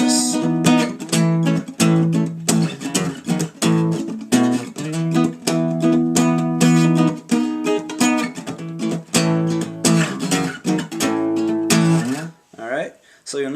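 Palm-muted electric guitar plays a riff, a steady run of tight, chugging muted notes with brief open accents, close and loud, ending in a short ringing strum.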